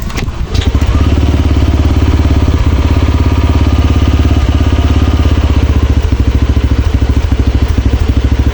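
A Yamaha Aerox 155 scooter with a misfiring, sputtering fault starts up and then runs loudly close by, its steady idle broken by uneven pulses throughout.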